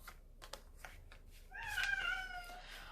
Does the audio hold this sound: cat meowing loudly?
yes